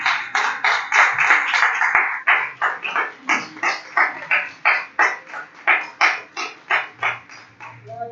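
Members of a church discipleship class clap in a strong, rhythmic, steady beat that keeps going for several seconds, close and clear, with a voice briefly at the start.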